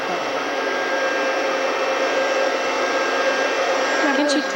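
A vacuum cleaner runs steadily at close range while a car interior is being cleaned on a family vacation, a continuous loud whirring drone holding level throughout with a brief faint voice near the end.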